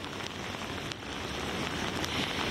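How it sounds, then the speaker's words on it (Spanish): Heavy rain pours continuously during storms and flooding in Boltaña, Spain, a dense, even roar of drops close by with no voices. "Ahora, como veis, llueve con fuerza."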